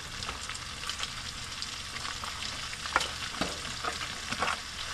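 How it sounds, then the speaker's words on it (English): Red onions fry in a pan for gravy, with a steady close sizzle and crackle and occasional sharper pops and spits, and no one talking. "it's time to add my red onions"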